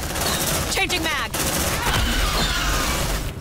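Marines fire bursts of automatic gunfire in the video game Aliens: Dark Descent, with rapid sustained volleys and sharp shots under game voices calling out.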